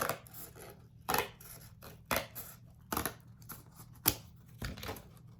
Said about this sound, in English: I have another piece of cardboard, and this time I've painted it red. So I'm gonna cut that now.